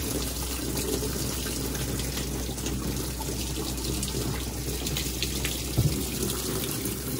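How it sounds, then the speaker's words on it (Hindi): Tap water runs steadily into a newly installed washing machine at home, a continuous, even rushing flow that holds for the whole stretch with no talk. "पानी भरे इसमें"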